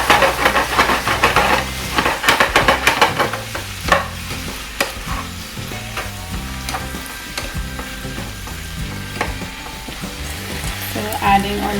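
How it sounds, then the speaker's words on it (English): Washed spinach with salt sautés in a hot pan, a steady loud sizzle broken by repeated scraping and stirring, with a faint low tonal hum underneath and no voices. "Now we're going to be adding all our washed clean spinach. Just adding a little bit of salt. Give it a quick saute."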